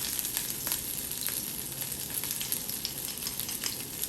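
Scallions sizzling in an oiled pan over medium heat, a steady close crackle and hiss with scattered pops and light stirring throughout.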